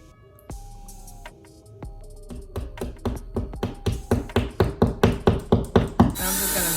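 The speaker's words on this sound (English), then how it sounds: "grab your hammer as well. So here, I'm just gonna make sure they kind of sit flush with the wall" A hammer taps plastic drywall anchors flush into a wall while hanging curtains: a few scattered knocks, then a quickening run of sharp, close, evenly spaced strikes growing louder, ending in a brief burst of noise.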